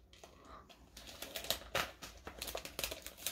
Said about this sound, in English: take your tape and secure it to your edge